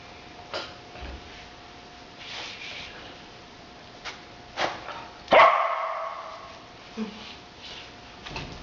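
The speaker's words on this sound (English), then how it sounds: "Is barking your answer to everything?" A dog barks a few times in short, sharp bursts at moderate distance, with quiet room noise between barks.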